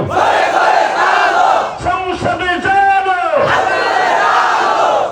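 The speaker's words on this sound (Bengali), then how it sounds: "আল্লাহ আকবর আর বলতে হবে তাকবীর" At a religious gathering, a large crowd chants the takbir, Allahu Akbar, with a loud unison roar. A brief dip in the middle separates sustained swells of massed voices.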